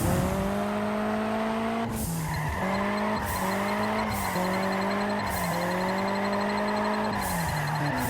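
An arcade-style car in Juiced 2 holds a long drift, tires squealing steadily while the engine revs climb and drop with repeated gear shifts, loud and close, no voices.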